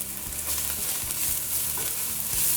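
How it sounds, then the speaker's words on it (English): Garlic sautéing with onion and peppers in a pan for curry mango, giving a loud, continuous close-up sizzle with a few soft stirring bumps underneath. "we're going to let that saute until the garlic is soft and tender and very fragrant"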